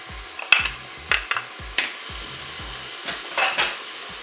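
Onions hit hot oil in a Cookeo multicooker, a faint sizzle running beneath repeated sharp clinks and knocks of a utensil against the pot, irregularly spaced and close by.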